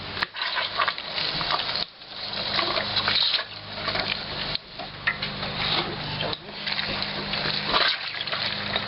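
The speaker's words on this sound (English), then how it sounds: "this is where the juice is flowing out as I grind this handle" A hand-cranked grinder juicing chopped tomatoes, separating skins and seeds from the juice, gives a steady wet crunching and squishing that runs continuously, with brief pauses between turns of the handle.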